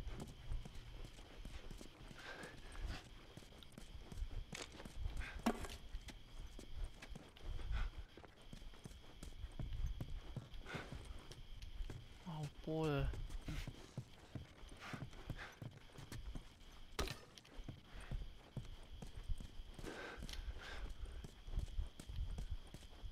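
Horses clip-clop at a walk in The Last of Us Remastered on PlayStation 5, hooves striking in a steady, fairly quiet rhythm over a low ambient bed, with an occasional whinny-like sound midway.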